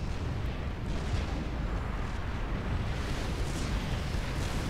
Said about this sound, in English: Oh, there's the loyalty gun.